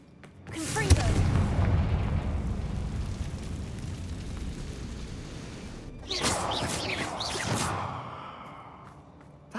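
A Confringo fire spell erupts in Hogwarts Legacy with a heavy boom that swells into a long rumbling roar, followed by a second burst of crackling impact before fading.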